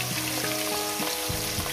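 Katla fish pieces frying in a pan, a loud, dense and steady sizzle heard close up, with faint bubbling pops throughout and no voices.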